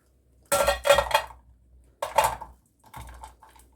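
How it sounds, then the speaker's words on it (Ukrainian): Small hard pieces of beeswax rattle and clatter into a plate in three short bursts, close and crisp, with brief pauses between pours. "Я пересипаю віск."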